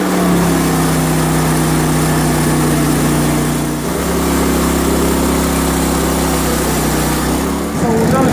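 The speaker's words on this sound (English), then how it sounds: "then we'll start sawing out boards" Sawmill engine running steadily at a loud, constant drone while a log is sawn into boards, with a brief dip in pitch near the middle and a shift near the end as the cut load changes.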